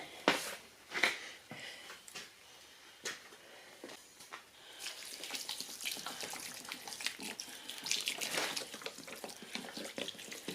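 Water poured and splashing into dry refractory mix while relining a road furnace, a close, uneven run of splashes and trickles, with no talk.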